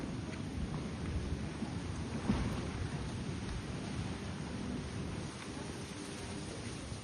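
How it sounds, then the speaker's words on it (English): Strong wind from a hurricane hitting Kingston, Jamaica, blows as a continuous low rumbling buffet across the microphone, with a brief louder gust partway through. "See how the breeze is blowing."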